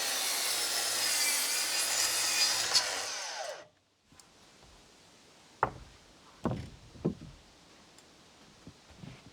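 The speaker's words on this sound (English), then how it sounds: "I just had to do a little trimming on the deck boards" A saw trims wooden deck boards with a shiplap profile at an outdoor build in the woods: about four seconds of steady, loud cutting, then quiet broken by several knocks and clatters.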